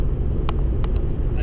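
Steady low road rumble from a pickup truck packed with belongings, cruising along a road on a move back to school, with a few faint clicks and brief higher sounds over the continuous engine and tire drone.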